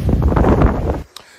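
Gusty outdoor wind buffets the microphone with a loud, low rumble for about a second, then drops away abruptly, leaving a brief faint click.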